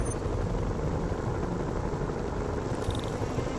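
A video-game helicopter's rotor thrums steadily with a low, continuous rumble and whir, loud and constant throughout, in Marvel's Spider-Man.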